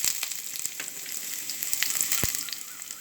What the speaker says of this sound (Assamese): তেলখিনি গৰম হৈছে, ল' ফ্লেমত দিছোঁ। এতিয়া মই পিঁয়াজখিনি ঢালি দিছোঁ।